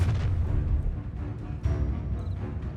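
An Incendio fire spell in Hogwarts Legacy goes off as a series of deep, booming blasts with crackling bursts, loud and close, repeating over a few seconds.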